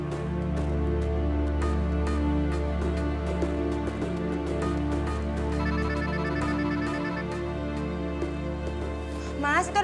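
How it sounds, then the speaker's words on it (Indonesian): Telephone ringing indoors with a repeated ringtone pattern over a steady low hum and background music, moderately loud and continuous. "itu ada telepon tuh"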